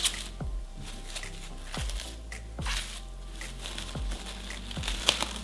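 Plastic cling film crinkles and squishes as it is wrapped around a mackerel fish, with soft rhythmic stretching pulls about once a second and a low thumping underneath, close and fairly quiet.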